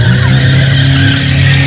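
A Chevette fitted with a four-cylinder Opala engine skids through maneuvers on a track. The tires scream in a loud, sustained slide over a steady engine drone, close and with no talking.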